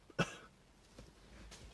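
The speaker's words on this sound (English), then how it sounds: "That was a burp, not a cough." A single short, throaty burp bursts out close by, followed by quiet room tone and a few faint small noises.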